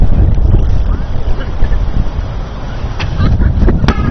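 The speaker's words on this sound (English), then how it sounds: "the wind can go away now" Loud gusting wind buffeting the microphone outdoors at a ball game, a constant low roar with faint voices and a few sharp knocks in the background.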